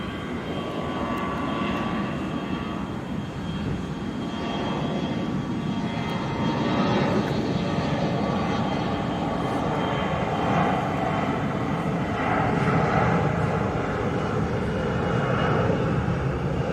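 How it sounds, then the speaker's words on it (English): An American Airlines jet lands at Phoenix Sky Harbor airport, and its steady engine roar fills the air, growing slightly louder as it passes. "That American Airlines that is landing right now."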